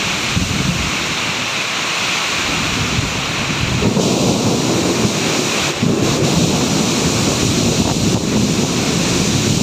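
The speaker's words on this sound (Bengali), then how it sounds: "যেমন বাজ পড়ছে তেমন বৃষ্টি হচ্ছে।" A violent cyclone thunderstorm lashes heavy rain with strong gusting wind, a loud, continuous roar buffeting the microphone with deep rumbling surges, no voices.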